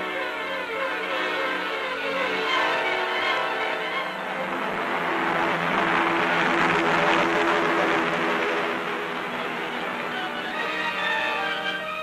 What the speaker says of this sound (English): they board giant United States transport planes